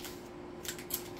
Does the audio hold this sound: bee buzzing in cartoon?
no